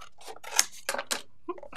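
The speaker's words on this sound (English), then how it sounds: "I can go ahead and cut right around the edge of this" Scissors snip around the edge of a stamped paper image, several quick close crisp cuts in an uneven rhythm with short gaps between them.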